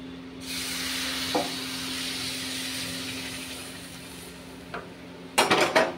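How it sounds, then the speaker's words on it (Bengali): Hot water hits frying rice for pulao in a pan, giving a loud, steady hiss that runs for several seconds and then fades. A few sharp metal clanks of utensils are heard, with a cluster of them near the end. "এবার গরম জল দিয়ে দেবো।"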